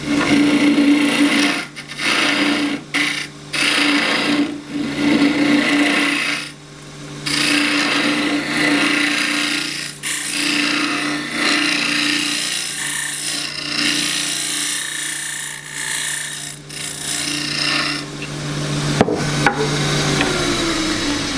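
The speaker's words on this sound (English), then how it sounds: "that's then going to get finished off with a scraper" A wooden bowl being finished with a scraper on a lathe: a loud, continuous raspy scraping over a steady spinning hum, broken by short pauses as the tool lifts off, no talking.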